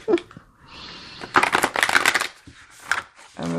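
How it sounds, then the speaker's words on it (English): A large tarot card deck is riffled and shuffled in a few quick bursts, the papery flutter close and loud, with brief pauses between. "I'm just gonna probably have to shuffle it like this."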